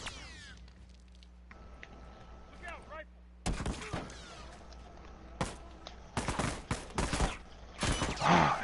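Burst-rifle gunfire in a video game, an M16-style weapon, heard as several sharp multi-shot bursts that get louder and more frequent toward the end, with quieter game ambience between them.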